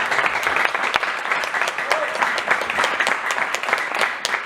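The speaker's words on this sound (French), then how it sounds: "je vous propose de les applaudir" Audience applause at a literary event in a café-bar, a dense wash of many hands clapping steadily at moderate volume, with occasional voices mixed in.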